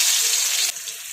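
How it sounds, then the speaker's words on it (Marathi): Mustard seeds with crushed garlic and cumin hit hot oil in a loud, close, hissing sizzle that drops slightly in strength partway through. "तेल तापले की याच्यामध्ये 1 टीस्पून मोहरी टाकून घेत आहे।"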